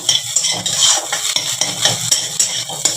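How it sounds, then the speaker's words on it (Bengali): Egg being broken up into small crumbs and fried in a pan, with repeated scraping and stirring strokes of a utensil against the metal over a steady sizzle, close and fairly loud. "আমি ডিমটাকে একদমই গুঁড়ো গুঁড়ো গুঁড়ো গুঁড়ো করে ফ্রাই করে নেব বন্ধুরা।"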